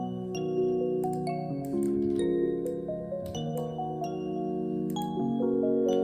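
Soft, chiming bell tones ring out in a gentle melody, each note struck with a bright attack and sustained shimmer.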